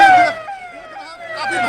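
A fire brigade vehicle's siren wails near a blaze in Barh, Bihar, a loud rising and falling tone close by that fades and then returns.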